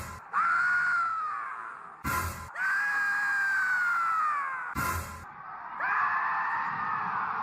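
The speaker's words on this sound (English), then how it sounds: "Oh, I forgot to give Bob his scream for the jewels." A loud, sustained scream sound effect played during an old-school wrestling death match stream, with long wailing screams separated by short bursts of noise.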